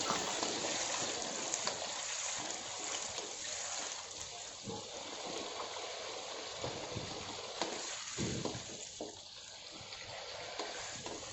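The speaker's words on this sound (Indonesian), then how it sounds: "Kita masukkan jengkol, kita goreng." Steady sizzling and bubbling of jengkol frying in coconut milk in a pan, a continuous hiss with occasional stirring clinks, fairly close.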